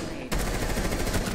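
Rapid automatic gunfire rattles in Rainbow Six Siege, starting abruptly after a brief lull and continuing as a dense, loud burst of shots.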